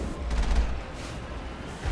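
Rapid suppressing gunfire in the video game Mass Effect, a dense burst of booming shots with low rumbling impacts, loud and close, trailing off into a quieter rattle.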